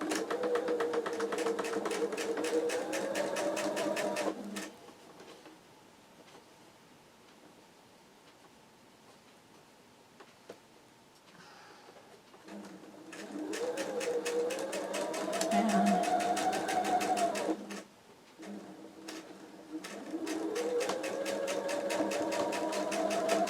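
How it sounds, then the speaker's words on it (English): A sewing machine stitches quilt block seams in rapid, even bursts, running steadily for a few seconds, pausing, then starting again twice more, close and clear without talk. "So I'm going to sew at this side first, so that way I know my seams will be okay."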